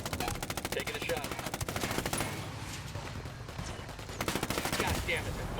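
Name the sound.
gunshots in video game Ghost Recon Wildlands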